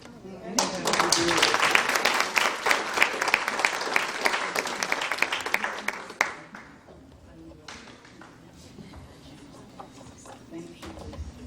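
Audience applause at a women's conference: a room of people claps steadily for several seconds, loud and busy, before it drops off sharply into scattered claps and quiet room noise.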